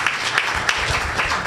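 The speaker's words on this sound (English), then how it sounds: "How about a round of applause for Tiffany?" Brief burst of audience clapping at a township board meeting, honoring a woman named Tiffany: close, fairly loud, with a few sharper individual claps standing out.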